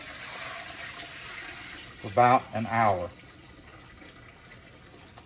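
Water poured into a stew pot of onions and browned beef, a steady broadband splash running throughout, while a person speaks briefly over it midway.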